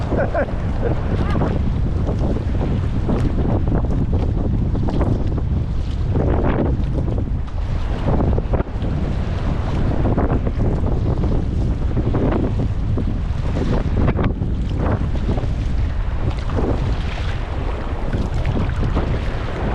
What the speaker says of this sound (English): Watch out for wind gusts.